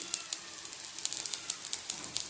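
Carrot and wheat flour dosa cooking in a little oil on an open pan, a soft steady sizzle with light crackling pops throughout, fairly quiet and with no voices.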